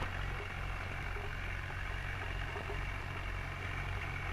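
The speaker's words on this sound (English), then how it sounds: "The Nuffield 460 tractor." A Nuffield 460 tractor engine idles, a steady low rumble with an even throb, moderately quiet and continuous with no voices.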